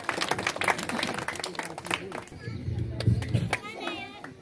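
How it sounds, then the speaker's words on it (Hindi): A crowd claps to welcome a speaker at an outdoor honour ceremony, with dense, steady applause running under mixed voices and children's chatter, close and fairly loud throughout. "ताली से स्वागत"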